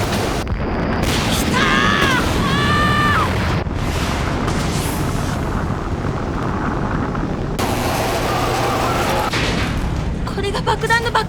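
Booming explosions from a bomb blast in the 1999 anime Turn A Gundam rumble loudly and continuously, layered with crackling debris, whistling tones and sharp impacts, with talk over parts of it.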